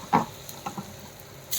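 Cumin and asafoetida tempering in hot oil: a soft sizzle with a few brief pops and a faint stirring clink, quiet and close, ending in a short hiss.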